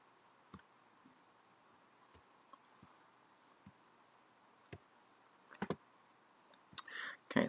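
Sparse, faint computer mouse clicks at irregular intervals, including a quick double click, with soft rustling toward the end in a quiet room.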